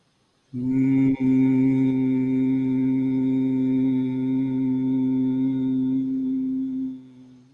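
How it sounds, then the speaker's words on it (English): A person makes the Bhramari breathing hum, a single loud, steady, close voiced tone held for about seven seconds that starts abruptly and fades at the end. "followed by about 8 seconds of humming sound"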